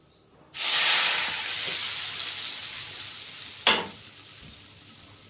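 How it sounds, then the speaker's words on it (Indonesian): Hot oil poured over chilli sambal sauce for potato balls bursts into a loud, close, sustained sizzle and hiss that slowly eases, with a brief clatter partway through. "Oke, udah panas minyaknya, kita ambil, kita tuang ya."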